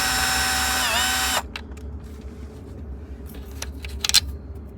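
A power driver fitted with a T15 Torx bit backs screws out of the radio of a Dodge Avenger in a loud whine that stops abruptly, followed by faint clicks and rattles as the parts are handled.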